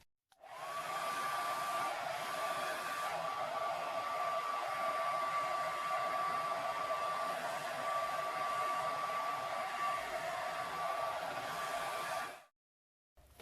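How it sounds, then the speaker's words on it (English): A hair dryer blows steadily while resin art is spread outwards with rose gold, black and white pigments, a constant whooshing hum with a thin whine that runs unbroken for about twelve seconds, then cuts off abruptly. "when you're using a hairdryer, everything flies everywhere around you"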